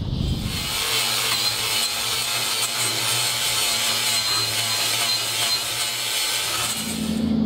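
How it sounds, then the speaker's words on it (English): An angle grinder with a flap disc sands a thin strip of paint off steel on a trawler, a loud continuous abrasive whine and rasp that holds steady for several seconds before winding down at the end. "now I'm going to sand off that thin strip of paint where I'm going to be cutting."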